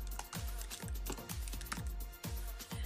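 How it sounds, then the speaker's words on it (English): Quick typing on a computer keyboard, a steady run of soft, close key taps at an even rhythm, with no one speaking. "I'll just type that in quickly."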